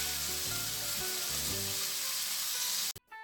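Pork fries in a pan, rendering its fat with a loud, steady sizzling hiss that cuts off abruptly near the end, with low background tones beneath and no talking.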